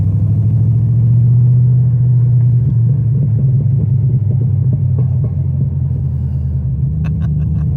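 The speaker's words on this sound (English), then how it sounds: "Backfires. Listen to this, ready?" An LS V8-swapped Porsche 911 at a Wichita cars and coffee meet rumbles loudly and close, a deep steady idle, with a few sharp pops near the end.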